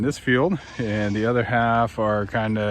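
Painted desert sheep bleat loudly out in a field, a run of long wavering calls from a small flock close by, while a person talks over them.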